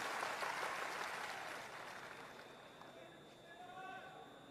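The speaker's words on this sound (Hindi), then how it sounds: "एक बार जोरदार ताली बजाकर इनका अभिवादन तो कीजिए।" A rally crowd claps for a speaker at a Prashant Kishor political event: loud, dense applause that swells at the start, then slowly fades and thins out, with voices mixed in.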